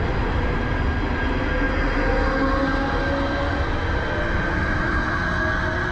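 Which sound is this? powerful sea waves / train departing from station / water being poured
train departing from station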